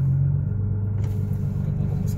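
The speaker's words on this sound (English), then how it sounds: "That's the sound of a GTR." A Nissan GT-R R35 engine rumbles with a deep, steady idle-like drone heard from inside the car, loud and close, with faint voices under it.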